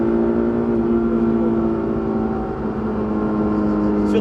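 A Honda S2000 engine gives a loud, steady, buzzing drone from inside the car that stays close and even in pitch throughout.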